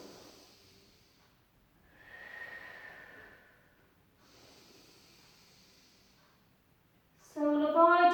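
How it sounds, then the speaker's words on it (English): Slow breaths during a gentle Pilates session: a faint exhale, then a longer audible inhalation and another soft breath out, quiet and close, followed by a voice speaking briefly at the end. "And again, breath in."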